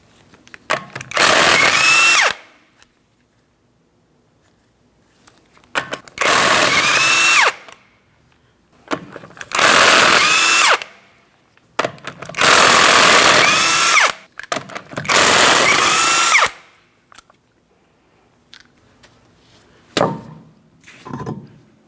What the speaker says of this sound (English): we're going to remove all 5 of our 19mm lug nuts and remove the wheel